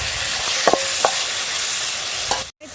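Chopped tomatoes frying in a pan for Chettinad-style soya chunks pepper fry, a steady close sizzle with a few sharp spatula scrapes and stirring knocks, then a brief cut to near silence at the end.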